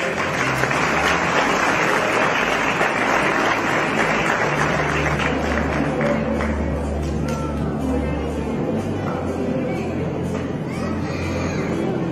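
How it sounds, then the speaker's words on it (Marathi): An audience at a police honour ceremony claps vigorously, a sustained dense round of applause throughout, with faint crowd murmur beneath. "बाकी सर्व ऑडियन्स मध्ये एका जोरदार टाळ्या होते"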